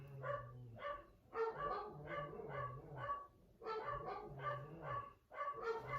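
Several dogs bark and yip in repeated bursts nearby, with short pauses between volleys, loud and excited.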